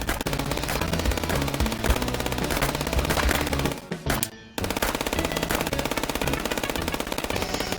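An automatic machine gun fires in a video game, a dense, loud, sustained rattle of rapid shots that breaks off for a moment before resuming at full intensity.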